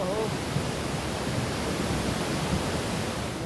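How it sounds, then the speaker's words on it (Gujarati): Floodwater pours from a height of 40 to 50 feet during heavy monsoon rain, a continuous broadband roar that stays steady and loud throughout with no breaks. "દ્રશ્યોમાં જોઈ શકાય છે કે 40 થી 50 ફૂટની ઊંચાઈએથી પાણી પડી રહ્યું છે"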